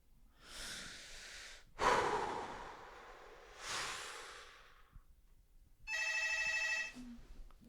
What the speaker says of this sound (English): That is a phone.